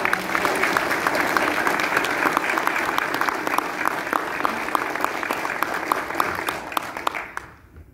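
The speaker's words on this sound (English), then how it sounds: "we'll just give one round of applause for our new council" Sustained applause with sharp individual claps from the audience at an inaugural council meeting, steady and fairly close, fading out in the final second.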